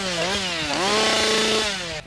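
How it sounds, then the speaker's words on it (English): A chainsaw revs loudly at a fright fest haunted attraction, its engine pitch swooping up and down in a rough, buzzing drone for about two seconds before abruptly cutting off. "They probably have a chainsaw."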